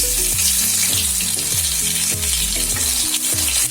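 Cauliflower pakoras frying in a pan of oil right after being flipped, a steady close, loud sizzle and bubbling with repeated soft scraping and stirring knocks, no voices.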